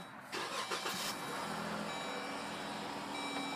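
A 2012 Jeep Grand Cherokee engine cranks over with a brief burst, then settles into a steady idle hum with a faint high whine. No talk.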